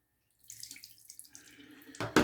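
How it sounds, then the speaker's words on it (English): Bloom water poured from a shaving soap container into a hand, a short trickle and splash after a moment of silence, ending in a couple of louder close splashes. "So I'm going to pour this bloom water out into my hand."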